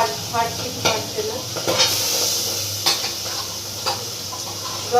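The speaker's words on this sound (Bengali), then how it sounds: "দেখো যতটা ফাটে ততটা কি ফাটছে, ততটা বেশি ফাটছে না।" Tangra fish frying in hot oil, a steady close sizzle broken by sharp sporadic pops and spatters, no talking.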